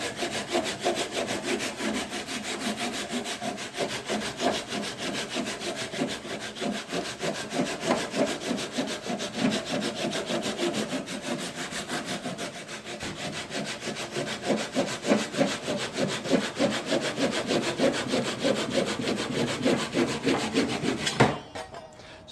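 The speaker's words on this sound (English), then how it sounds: "I'll get to some of that today with cutting this scarf joint out." A hand saw cuts a scarf joint in wood for a Telecaster guitar neck, with steady rhythmic back-and-forth rasping strokes close by that carry on for about twenty seconds and then stop.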